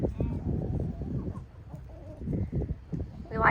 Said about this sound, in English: So we have 45, I think, chickens.